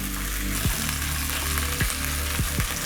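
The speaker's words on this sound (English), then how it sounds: "So you're going to sear your meat on 3 sides, that is the top and the 2 sides" Beef short ribs sear in a pan on a stovetop with a steady loud sizzle, while low rumbling thumps and sliding pitches from handling the pan or meat recur several times over the frying.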